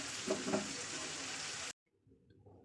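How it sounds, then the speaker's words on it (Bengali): A single onion fries in hot oil in a wok, giving a steady, close sizzle that stops abruptly partway through and leaves only faint, low clatter. "তেলটা গরম হলে দিয়ে দিয়েছি একটা পেঁয়াজ"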